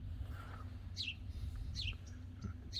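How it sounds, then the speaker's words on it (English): Small birds, likely a sparrow, give a few short high chirps at about 1 s, 1.8 s and 2.5 s over a steady low rumble at a riverside RV resort on the Sacramento Delta; the birds are moderately distant and faint against the background. "That's not a woodpecker, that's a sparrow in there."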